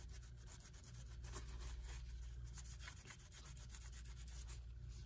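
Quiet, close rubbing of a cloth soaked in alcohol wiping oil off the edge of a Telechron H clock rotor, soft repeated strokes with a faint scratchy texture and no speech.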